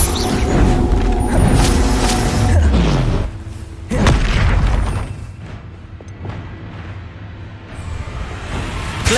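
Fiery Confringo blasting spells from the Hogwarts Legacy wizarding game detonate in repeated loud booms and bursts, layered over dense battle noise and a steady low rumble, with a brief lull before another heavy blast.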